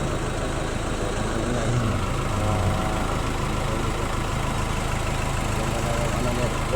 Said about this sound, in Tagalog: yung tunog ng makina, wala nang ingay